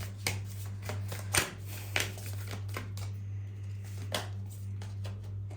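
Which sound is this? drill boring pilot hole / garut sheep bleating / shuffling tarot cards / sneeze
shuffling tarot cards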